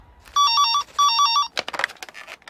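A telephone rings in two short bursts of rapid electronic trills, close and clear, followed by a clattering handling noise as it is picked up.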